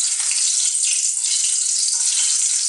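Garlic fries in a pan with a loud, close, even sizzle that runs throughout without talking.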